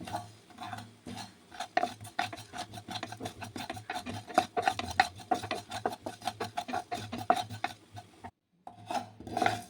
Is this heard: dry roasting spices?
yes